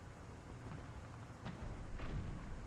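A tank cannon fires a shell in a War Thunder simulator battle featuring a T-34 and StuG IIIa, heard as a muffled low boom partway through, with a second dull thump after it, over a steady rumbling background and no speech.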